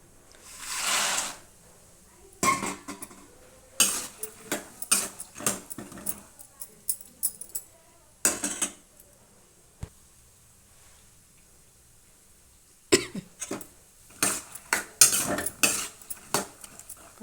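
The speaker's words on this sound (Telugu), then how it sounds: "కొంచెం బ్రౌన్ కలర్ వచ్చేదాకా ఇలాగ ఆయిల్లో వేయించుకోవాలండి ఇవి. చూడండి, వేగుతున్నాయి" Peanuts fry in oil in a pan for a spicy Rayalaseema snack. Close, irregular bursts of crackling and clinking come as they are stirred, with quiet gaps between.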